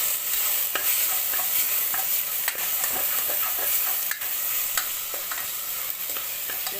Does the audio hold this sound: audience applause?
no